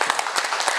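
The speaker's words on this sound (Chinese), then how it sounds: "再次给他一个热烈掌声" Brief burst of dense audience applause at a formal conference meeting: many hands clapping at once, close and steady, with no voices.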